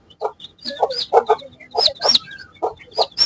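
A hen clucks busily beside freshly hatched eggs, a close, steady run of short clucks and higher chirping calls with no voices.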